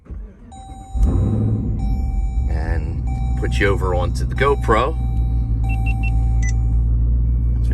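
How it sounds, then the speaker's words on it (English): A car engine cranks and catches about a second in, then settles into a steady low idle rumble. Electronic chime tones and a speaking voice sit over the running engine. "Start the engine."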